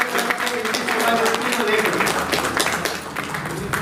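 Applause from an audience at a railway workers' union retirement ceremony, a dense, steady patter of many hands clapping for several seconds with voices mixed in.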